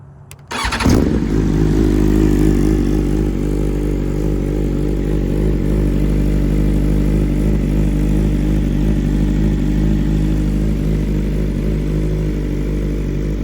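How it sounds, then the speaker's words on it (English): A BMW M1000RR motorcycle starts up after a moment of quiet, then settles into a loud, steady, rumbling exhaust idle close by, with a rough clattering edge and no talking. "I'm going to give you guys some exhaust sounds"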